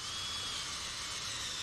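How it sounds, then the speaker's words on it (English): A power drill bores a tap hole into a maple tree trunk, giving a steady, continuous high whine at close range with no talking. "How far do you drill in?"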